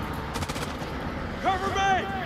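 Gunfire in the video game House of Ashes: a short run of rapid shots near the start, then a voice shouting over it.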